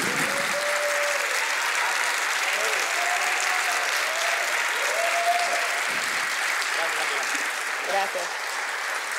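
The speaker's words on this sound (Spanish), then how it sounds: "Quiero pedir un aplauso" Steady, dense applause from a crowd at a legislative session fills the whole stretch, with a voice speaking faintly over it.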